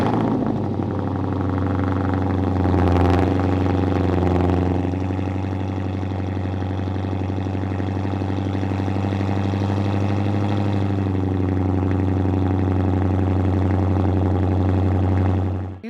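A Chrysler 300 with the 5.7 V8 and stock primaries into a rear muffler with the rear resonator deleted idles with a deep, steady burble. One quick throttle blip rises near the start, then it settles back to an even, loud idle.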